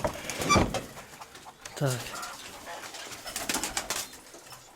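Pigeons and young squabs coo inside a pigeon loft, soft repeated throaty calls up close, with someone speaking briefly among them.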